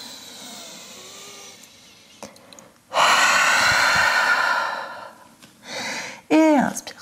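Deep, slow breaths drawn and released during a vinyasa yoga flow, a long airy exhale in the middle followed by a shorter breath and a sharp snort-like gust near the end, close and fairly loud with no talking.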